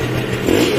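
Kawasaki KR 150 two-stroke motorcycle with an SE boxless ignition setup, its engine running loud and close as the throttle is blipped, the revs swelling toward the end of the short burst.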